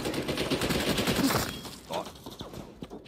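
Rapid bursts of gunfire from a Call of Duty Warzone match crackle densely through the first second and a half, then thin into scattered shots and softer game noise.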